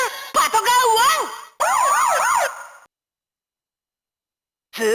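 A BoonBoom Changer toy sounds its patrol car siren, a loud electronic wailing with rapid up-and-down sweeps in two bursts, then silence before another sound begins.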